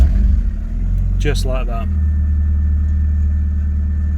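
An MG ZR 120 engine fires up and settles into a steady idle, a low continuous rumble running under a brief spoken remark near the start.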